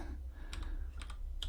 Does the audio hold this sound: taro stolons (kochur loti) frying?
no